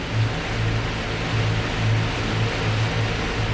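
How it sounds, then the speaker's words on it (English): Choppy ocean water washes and churns steadily around a Lagoon 420 catamaran under way on the Chesapeake, with a dense rushing roar and a low pulsing engine-like hum beneath, no voices. "nice choppy waves."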